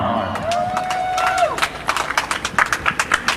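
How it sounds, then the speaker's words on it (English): Scattered hand clapping for speaker Merlin Miller rises at an event, light and uneven at first, then becoming a series of distinct claps toward the end. "let's give a warm round of applause for Mr. Merlin Miller"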